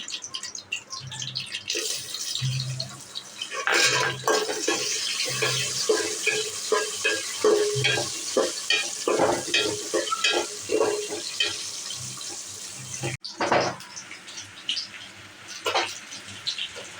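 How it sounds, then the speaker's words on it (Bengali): Cashews and raisins frying in hot oil for Basanti pulao, a steady close sizzle broken by repeated scraping stirs of a spoon in the pan, with no talking. "কাজু কিশমিশ ভেজে নিচ্ছি"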